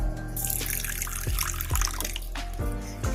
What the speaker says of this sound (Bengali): এবার আমি এটা জল দিয়ে ভিজিয়ে দেব